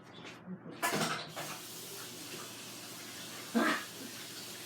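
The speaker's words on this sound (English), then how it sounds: "give me, what, 20 seconds to wash my hands?" A kitchen tap runs while hands are washed under the water, a soft steady stream with a few louder splashes and bumps near the start and one more after the midpoint.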